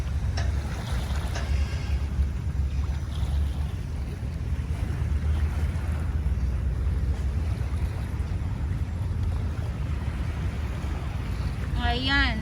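Waves on Manila Bay wash steadily around a boat, with low rumbling water and wind buffeting the microphone throughout, and a brief voice near the end.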